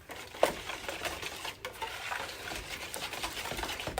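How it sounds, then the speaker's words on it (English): Heavy cream is whisked into a French toast custard, a quiet continuous swishing and tapping of the whisk in a bowl, with a brief louder knock near the start. "And I'll whisk this in."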